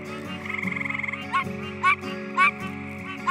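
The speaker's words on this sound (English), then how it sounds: "As long as we continue to hear Pine Barrens tree frogs calling" Pine Barrens tree frogs call from a wetland forest, a rapid pulsing nasal chorus with several louder honking notes standing out nearby, no voices.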